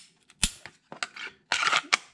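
A Glock 43X snaps into a tuckable holster's retention, several sharp close plastic clicks and a quick rustling slide in a short burst.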